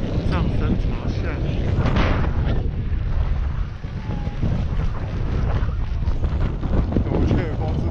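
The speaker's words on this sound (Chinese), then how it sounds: "我觉得风是大的，我觉得风很大" Strong gusting wind roars across a Hokkaido ski slope, buffeting the microphone in a loud, continuous rumble, with people talking faintly underneath.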